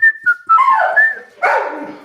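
A person whistles a few bright, sliding notes, and a dog answers with excited whimpering yelps and barks that blend with the whistle, close and fairly loud.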